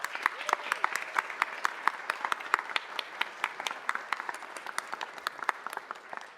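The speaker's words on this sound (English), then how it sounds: "Can we have a round of applause for Amy?" Sustained audience applause at a city council meeting, many hands clapping steadily and fairly close for several seconds, with no talk over it.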